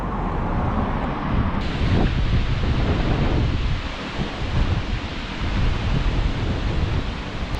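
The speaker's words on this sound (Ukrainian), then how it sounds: "В загальному погода сьогодні хороша, але сильний вітер, пориви до 14 метрів за секунду." Strong gusty wind, gusting to about 14 m/s, on a country road near Sudylkiv and Shepetivka in Ukraine, roars steadily and buffets the microphone loudly and closely, with no pauses.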